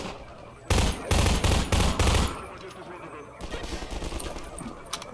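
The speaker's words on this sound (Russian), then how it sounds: "Я расстреляю все патроны с этой пушки." Gunfire in the video game Half-Life 2: a rapid string of loud, evenly spaced shots from a gun being emptied, followed after a pause by a second quicker burst of fire under ongoing in-game noise.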